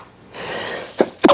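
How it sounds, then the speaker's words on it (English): A person sneezes close to the microphone after a quiet breathy build-up: a short sharp burst followed by a second, louder explosive sneeze, with no talking over it. "Do I have to sneeze? Bless you."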